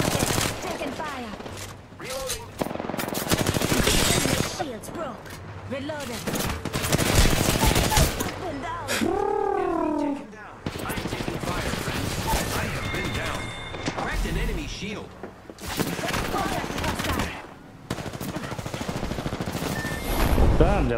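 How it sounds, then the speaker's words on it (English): Gunfire in the battle royale video game Apex Legends, loud bursts of automatic shots and rapid fusillades throughout, mixed with game sound effects and character voice lines. "I am taking fire."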